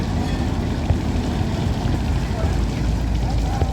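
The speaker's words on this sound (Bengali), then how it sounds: "এদের লঞ্চ ছাড়ার মুহূর্তটা আপনারা দেখতে পাচ্ছেন।" A passenger river launch in Bangladesh pulls away from the dock, heard as a steady low engine rumble with broad water and crowd wash. The sound is dense and continuous, with no clear voices on top.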